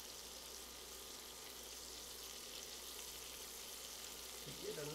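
Shrimp frying in butter in a pan for shrimp Alfredo, a steady close hiss of sizzling fat that holds evenly throughout with a faint clink near the end.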